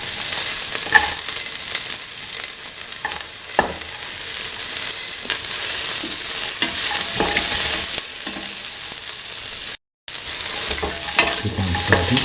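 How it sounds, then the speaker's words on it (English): Onions and shallots with salt, garlic and ginger pieces sauté in a pan, giving a loud, continuous sizzle broken by scraping stirs and a brief gap of silence. "Keep on sauteing."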